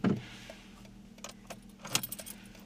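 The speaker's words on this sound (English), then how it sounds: "I have here the keys to this car." Car keys for a Lotus Evora Sport 410 jingle up close in a few short metallic shakes, loudest at the start and again near the end, over a quiet background.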